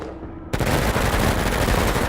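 Submachine gun fire in the video game Menace bursts in after a brief quiet moment, then a loud, dense, continuous rattle of rapid shots carries through to the end.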